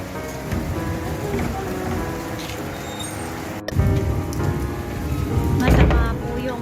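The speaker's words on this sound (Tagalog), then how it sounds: "The weather is it's windy and raining. It's rain a lot. And thunderstorms." Steady heavy rain falls on surfaces through a windy thunderstorm, and a rumble of thunder swells partway through.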